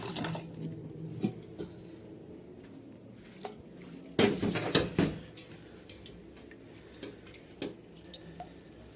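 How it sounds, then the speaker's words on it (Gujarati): Coriander leaves washed with mineral water for sabudana khichdi, with intermittent pouring and splashing, a few louder bursts and faint drips in the background, and no talk. "મિનરલ પાણીથી ધોઈ દઈએ."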